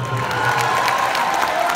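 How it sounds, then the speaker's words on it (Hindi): A concert audience at a show in Houston claps and cheers, a dense continuous wash of applause with crowd shouts and a sustained musical tone beneath it. "एंड कुलदीप राज के लिए जोरदार तालियां"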